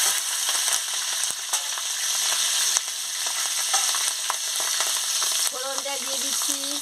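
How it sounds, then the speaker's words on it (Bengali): Chopped green chillies hitting hot oil for a pumpkin-leaf and prawn dish, a bright crackling sizzle with scattered pops, close and steady, with a faint tonal squeal near the end. "তেল গরম হয়ে গেছে, আমি কাঁচা লঙ্কা কুচি দিয়ে দিচ্ছি।"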